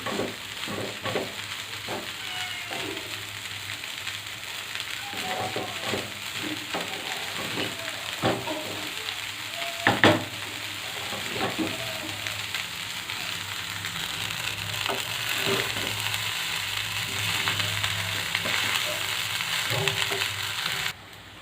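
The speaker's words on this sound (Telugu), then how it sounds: "ఎగ్ ఫ్రైడ్ రైస్ అనేది హై ఫ్లేమ్లోనే చేసుకోవాలి అప్పుడైతేనే టేస్ట్ బాగా వస్తుంది బాగా కుక్ అవుతుంది" Egg fried rice frying on a high flame, a steady loud sizzle with repeated scraping and tossing strokes of a spatula in the pan, continuous and close with no talking.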